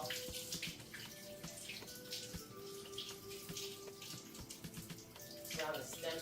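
Tap water running steadily while two mushrooms are rubbed clean by hand, a continuous close splashing wash with small shifts in flow, swelling briefly near the end.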